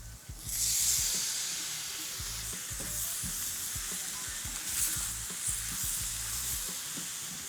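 Tomatoes hit a pan of hot curry paste with a sudden burst of sizzling that settles into a steady, close frying hiss, punctuated by repeated light knocks and scrapes of a utensil stirring.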